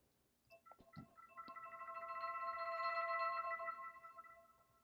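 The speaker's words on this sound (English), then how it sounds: "this like little glimmery effect that I found inside of Arcade" A soft, shimmering synth swell of bright sustained tones from a glimmery effect in Arcade rises after a few plucked notes, builds gently, then fades away, quiet and alone.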